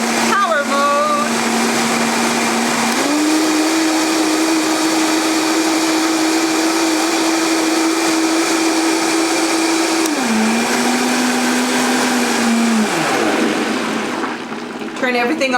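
A blender runs on high power through a green smoothie, a loud steady whir that steps up in pitch, holds, then dips and winds down near the end.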